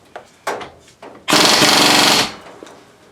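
An Icon impact wrench hammers on a car wheel of a Hyundai Elantra, one loud, steady burst of rapid rattling lasting about a second, preceded by a few short clanks and softer handling noises.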